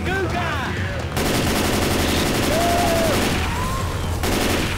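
Gunfire from the zombie shooter game Left 4 Dead 2 bursts out in rapid, repeated volleys, loud and close. Voices chatter briefly at the start.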